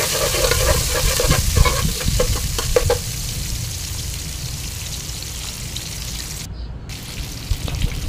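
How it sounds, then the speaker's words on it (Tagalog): Garlic and onion fry in oil in a pan for an Ilocano dinengdeng. Close, busy stirring scrapes run through the first three seconds, then a steady crackling sizzle continues alone. "ilagyan po ng mantika, bawang, halo-halo-halo, sibuyas"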